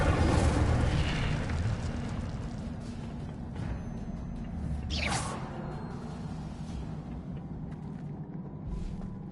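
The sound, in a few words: Incendio fire spell cast, from a wizard video game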